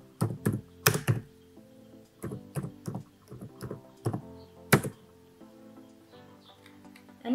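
Typing on a computer keyboard comes through as scattered bursts of close, crisp key clicks and taps in uneven clusters, against a faint steady hum.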